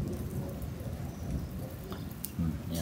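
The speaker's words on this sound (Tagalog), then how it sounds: "Oh, may kasama pang kulog-kulog." Steady rain hiss during a storm, with low rumbling that fits distant thunder building near the end, continuous and fairly loud throughout.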